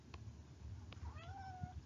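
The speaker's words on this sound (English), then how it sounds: "my cat's yelling at me." A house cat yowls nearby with one drawn-out, wavering meow of rising then sliding pitch, fairly faint over a low background hum and a few small clicks.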